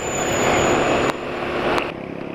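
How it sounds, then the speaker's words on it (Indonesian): Automatic scooter engine running smoothly at around 50 km/h, a steady loud drone with dense wind and road roar, briefly dipping then resuming. "suara mesin halus ya."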